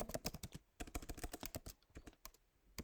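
Keys clack in quick bursts on a computer keyboard as a course name is typed, close and crisp, with short pauses between runs of keystrokes and no voices.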